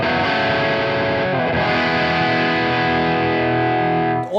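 A PRS SE NF53 electric guitar played through distortion, sustained thick chords ringing loud and close, shifting once before a final bend, with no talking.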